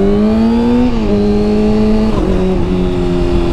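A 2012 Kawasaki ZX-6R sport motorcycle engine idles and revs close by, a loud steady drone whose pitch rises, dips slightly and settles across the whole stretch, with no talk.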